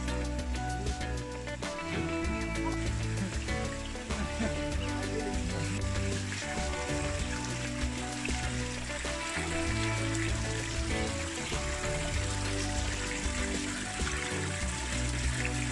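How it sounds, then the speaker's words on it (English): A river in the Jamaican countryside rushes steadily past, a loud, continuous wash of flowing water that holds an even level throughout with no voices. "Guys, you hear the sounds of the river water?"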